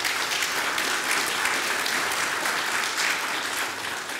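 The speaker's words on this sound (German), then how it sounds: "Ihr Beifall für das Wirken in dieser Zeit." An audience claps in a steady, dense wash of applause that holds loud and even for several seconds, then fades slightly at the end.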